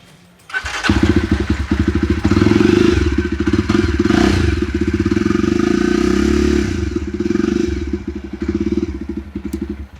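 A Kawasaki Z800 superbike with an aftermarket exhaust starts with a thump and settles into a loud, steady, rapid idle rumble that continues to the end, slightly uneven and throbbing.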